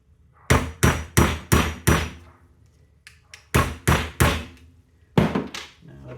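A hammer strikes a steel punch driving a part out of a Portuguese M1886 Kropatschek rifle, with sharp metallic blows that come close and loud in three quick bursts of about five, four and three hits.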